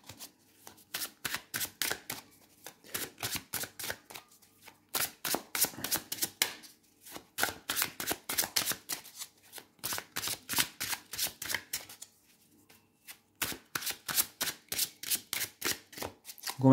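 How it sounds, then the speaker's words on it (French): Tarot cards, a Tarot of the Abyss deck, are shuffled by hand in repeated bursts of rapid, crisp riffling clicks, separated by brief pauses, close and clear with no talking. "Je vais venir mélanger les cartes"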